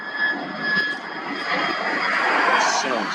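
A fixed-wing aircraft roars through a touch-and-go landing. The loud, steady engine noise swells slightly as it passes, with faint voices from an outdoor crowd beneath it.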